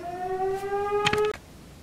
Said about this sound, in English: there was some kind of alarm that went off, sirens